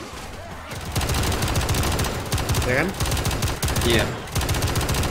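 Rapid automatic gunfire crackles in close, loud bursts during a zombie shootout in the video game Left 4 Dead 2, with players talking briefly over the shooting.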